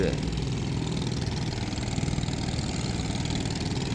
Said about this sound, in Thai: เรือหางยาวประมงชายฝั่งของชาวบ้านนะครับ